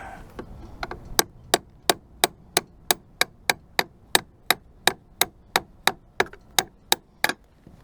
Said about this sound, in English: I think I can wedge my chisel under there. See if I can get it loose.